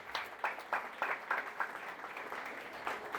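A church congregation at a Spanish-language service claps in a rhythmic, evenly spaced beat, with distinct sharp claps repeating roughly three times per second over a low background wash, heard moderately from a distance.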